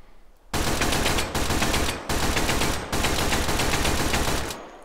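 Team Fortress 2 guns fired in a VR game: loud, dense bursts of rapid gunfire in three long volleys separated by brief gaps, close and dominant, with no talking.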